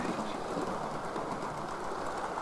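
Two Hornby Turbomotive model locomotives run past each other on a model railway, giving a steady, soft, continuous rolling whir and rumble with no voices.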